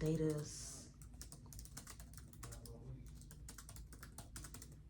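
Quick bursts of computer keyboard typing click up close, irregular keystrokes continuing throughout after a short spoken sound at the very start.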